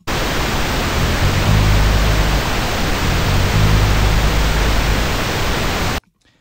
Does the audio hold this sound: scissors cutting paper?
no